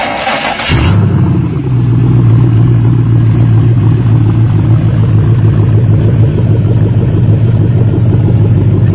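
A brand-new LS7 crate engine in a custom-fabricated build cranks and catches, then settles into a loud, steady, rumbling idle with slight revving that carries on close by and alone for the rest of the stretch.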